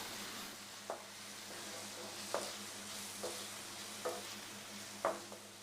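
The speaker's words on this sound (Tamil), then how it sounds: "வெங்காயத்தை வதக்கும் போது ஹை ஃப்ளேமில் வச்சு நல்லா வதக்கி விட்டுக்கணும்." Chopped onions sauté over a high flame with a steady, quiet sizzle, broken by about five light spatula taps and scrapes at loose intervals, heard alone.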